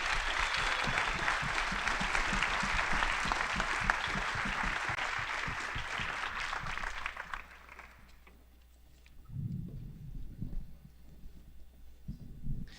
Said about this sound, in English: let's give a round of applause to our moderators and especially our candidates here